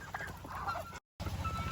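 Geese honk in a noisy flock on a farm, harsh calls overlapping close by, broken by a brief gap of silence before the honking resumes.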